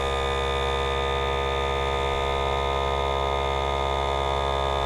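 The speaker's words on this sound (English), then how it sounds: "The little door will close as it goes into a deep vacuum." A FoodSaver 2-in-1 vacuum sealer pumps toward deep vacuum with a constant, loud electric motor hum and buzz, unchanging throughout with no pauses.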